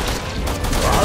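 Rapid gunfire in Resident Evil 6, dense loud bursts with a low booming body, over game sound, brief and close.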